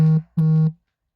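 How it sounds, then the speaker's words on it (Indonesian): Two short electronic tones sound from a phone in the next room during cooking, a pair of clean beeps with a brief gap, then silence. "ada notifikasi dari sebelah"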